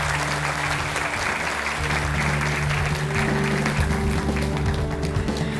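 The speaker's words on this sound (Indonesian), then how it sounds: "Berikan tepuk tangan untuk Guru Besar Hukum Pidana Universitas Jenderal Sudirman" Steady applause fills the room as a studio audience claps for a guest, a professor of criminal law, at an Indonesian televised talk show, with dense, continuous clapping and no talk over it.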